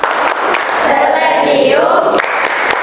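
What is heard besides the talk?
students doing a rhythmic spirit clap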